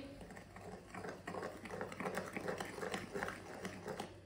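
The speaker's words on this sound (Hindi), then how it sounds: "बेसन को अच्छी तरह मिक्स करना है।" Gram flour batter with salt and water being mixed in a bowl, a steady wet scraping and stirring texture that continues throughout at moderate level with no talking.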